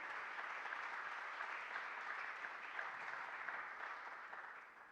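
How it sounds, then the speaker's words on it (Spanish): Congregation applause in a church after a sermon, a sustained, even wash of many hands clapping that stays faint and distant, easing off slightly at the end. "¿Cuánto le dan un fuerte aplauso al Señor por esta palabra?"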